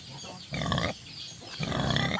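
Pregnant wild boar on a farm gives two low, rough grunting bursts up close, each about half a second, over quiet background.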